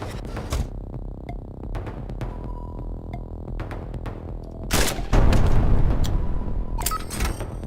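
Gunfire and an explosion in the video game Heat Signature: scattered sharp shots, then a loud booming blast around the middle that rumbles on, over a steady low game hum.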